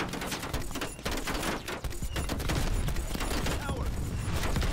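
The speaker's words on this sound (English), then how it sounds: "I'm just shooting like crazy. I'm shooting everything." Rapid, chaotic gunfire from the Black Ops Cold War campaign, dense overlapping bursts of weapon shots mixed with explosions and battle noise, loud and continuous throughout.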